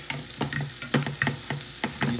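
Onions caramelizing in a pan give a steady close sizzle, broken by repeated scraping stir strokes about every third of a second, with no voices.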